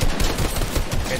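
Rapid bursts of video game gunfire ending in a headshot kill, a dense close rattle of shots packed into about a second.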